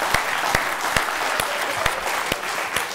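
A studio audience on a Georgian television game show claps in a loose, regular rhythm, each distinct hand clap standing out over a soft murmur of room noise.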